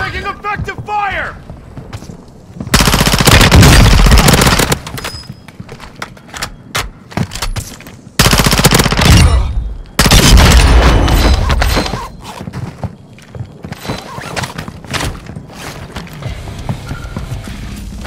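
Gunfire in the Call of Duty: Modern Warfare II video game, loud bursts of automatic fire and booms in several long volleys, with radio chatter and voices talking between the shots.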